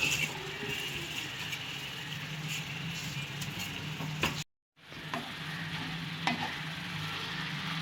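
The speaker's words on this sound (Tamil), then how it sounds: "இந்த மாதிரி நல்லா கிளறி விட்டு அப்படியே வதக்குங்க" Mint leaves stirred and sautéed in a pan for a Tamil pudina thuvayal, giving a steady soft sizzle with scraping stir strokes close by, a brief gap of silence midway, and no talk.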